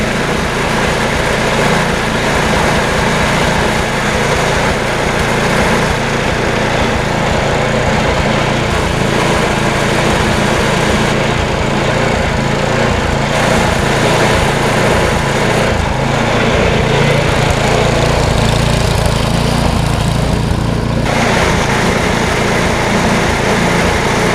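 An MTD snow blower's small engine runs at half choke under repair, a loud, steady, close drone with a constant rough buzz for the whole stretch and no talk.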